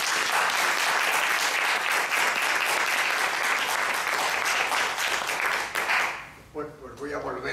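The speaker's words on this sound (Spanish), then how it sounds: "un aplauso para él" Audience applause at a film-criticism talk welcoming a speaker at a cinema forum, a loud sustained crowd clapping that fades near the end as a voice begins speaking.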